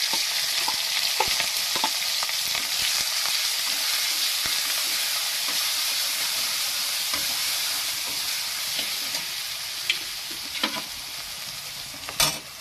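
Spices and black cumin sizzle in hot oil with data stems and potatoes, a steady bright frying hiss with scattered clicks and scrapes of stirring, ending in a sharper clatter.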